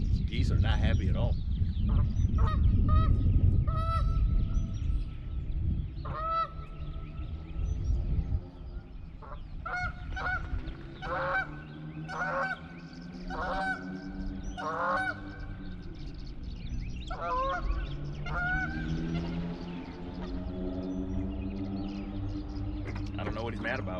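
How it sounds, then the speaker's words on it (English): Geese honk repeatedly near a lakeshore during spring bass fishing, loud harsh calls in irregular bursts over wind rumble, with someone talking at times. "Geese are not happy at all."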